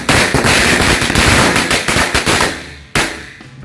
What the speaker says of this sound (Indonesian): yang selanjutnya kita nyalakan 4 jenis mercon korek ya, yang udah kita susun seperti ini